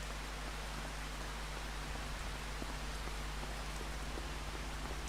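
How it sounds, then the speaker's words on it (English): Rain falls in the farming video game Farming Simulator 25 as an even, unbroken wash of hiss with a low steady hum beneath and no talk. "When's it going to stop raining?"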